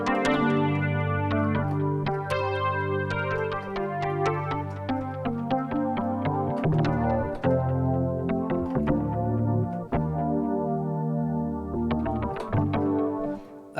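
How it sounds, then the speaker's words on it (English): The Korg opsix 2.0 synthesizer's Wave Shape EP preset plays electric-piano chords and melodic notes with percussive, bell-like attacks and sustained low tones, clear and close with no talking. "It's called Wave Shape EP."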